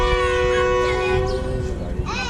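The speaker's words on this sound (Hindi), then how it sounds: "हॉर्न दे दिए इसने दूसरा सिग्नल।" A Thal Express passenger train sounds its horn, a sustained multi-tone blast held strongly for about two seconds amid station noise, with faint voices underneath.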